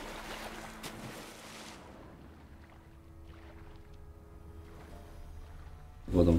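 Boat travel across water in The Witcher 3: Wild Hunt, a steady wash of lapping water and wind with soft splashes, ending in a louder burst of splashing.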